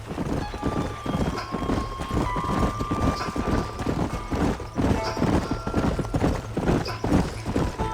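Horses gallop in the Red Dead Redemption game, a dense, steady drumming of hooves from several riders with a snort or whinny now and then and a low background score.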